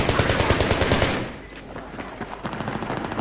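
Rapid automatic gunfire in Battlefield 3, a dense run of close, loud shots for about a second, then scattered quieter bursts and impacts trailing off after a brief lull.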